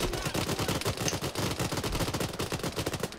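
Video-game gunfire in ArmA: a dense, continuous rattle of rapid automatic shots, loud and close, keeping an even fast rhythm throughout with no talking.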